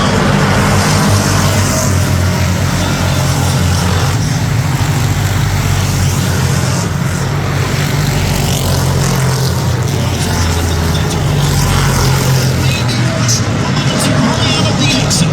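Stock car engines roar continuously on a race track at a crown stock feature, a loud, dense drone that stays steady throughout, with an announcer talking over it.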